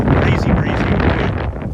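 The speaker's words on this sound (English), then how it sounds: "All of a sudden. Very windy." Strong wind buffets the microphone in a continuous loud roar with gusty rumbling throughout.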